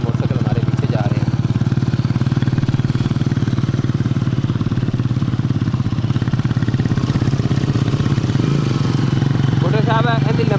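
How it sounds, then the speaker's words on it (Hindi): Several motorcycles ride in a convoy along a jungle track near the Pakistan–India border, their engines droning loudly and steadily close by throughout, with a brief rise in revs near the end. "ये बाइक के आगे जा रहे हैं, मोटरसाइकिल 3-4 मोटरसाइकिल आगे जा रहे हैं"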